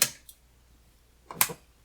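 A Wuben PL01 penlight running on a single AAA or 10880 cell clicks off, giving two short sharp switch clicks about a second apart, close and alone.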